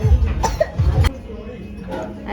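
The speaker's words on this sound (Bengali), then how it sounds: "এই কাশছো কেন?" A child coughs in two quick, loud bursts, close up, followed by quieter room noise.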